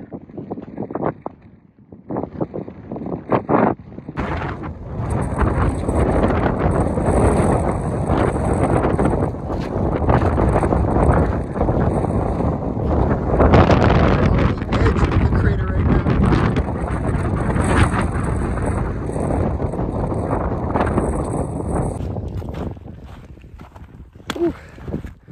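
Strong wind roaring across the summit of an active volcano on St. Vincent, a loud sustained buffeting rush on the microphone for most of the stretch before it eases at the end.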